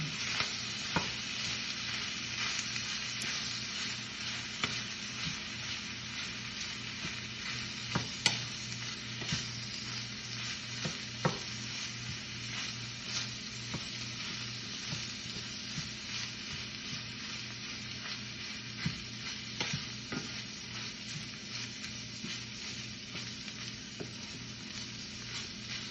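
Spinach cooking in a covered pan gives a continuous close sizzle, with frequent light taps and scrapes as it is stirred. The sound keeps an even level throughout and no one speaks.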